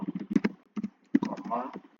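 Quick bursts of keys clattering on a computer keyboard, close and crisp in short irregular runs, with a voice talking over the typing.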